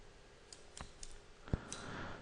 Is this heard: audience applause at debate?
no